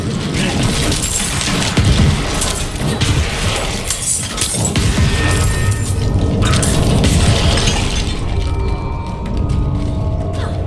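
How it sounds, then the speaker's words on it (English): A Necromancer's corpse explosions in Diablo IV burst in dense, loud booms with shattering, crunching debris, piling on each other in continuous combat noise before thinning out toward the end. "That's how you effectively use corpse explosion."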